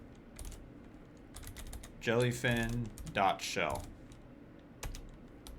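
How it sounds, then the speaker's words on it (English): Typing on a computer keyboard in a Linux terminal on Ubuntu, heard as scattered close key clicks in short bursts before and after someone speaks. "So I'll type in"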